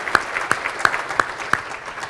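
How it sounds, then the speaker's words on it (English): An audience at a breakfast event claps in a few slow, distinct, evenly spaced claps, fairly faint and brief. "please give them another round of applause"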